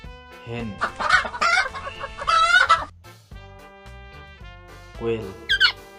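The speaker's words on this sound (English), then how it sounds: "hen," A hen clucks and squawks in several loud, close bursts, the calls rising and falling in pitch over a low rhythmic music bed.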